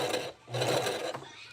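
A sewing machine back stitching through fabric for a wig cap runs in a steady, close mechanical whir, briefly dipping in the middle before running on again.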